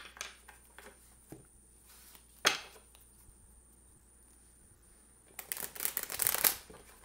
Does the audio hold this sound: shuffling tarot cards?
yes